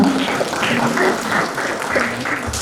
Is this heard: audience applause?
yes